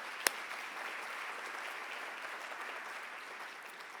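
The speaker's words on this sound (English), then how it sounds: "Please give them a round of applause." An audience at a conference opening ceremony applauds a sponsor, heard as a faint, distant, steady wash of clapping. One sharper clap stands out near the start.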